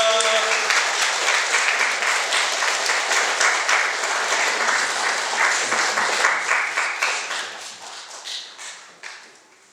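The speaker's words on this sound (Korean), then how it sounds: "박수로 환영하겠습니다." A church congregation claps to welcome a missionary to the front, a full and lively burst of applause that holds steady, then thins out to a few scattered claps as it fades.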